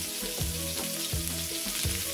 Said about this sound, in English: I'll sear it for about a couple minutes on each side